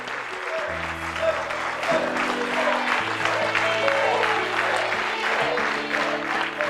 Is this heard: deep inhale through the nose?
no